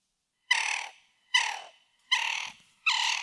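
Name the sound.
pitched-down reversed sound effect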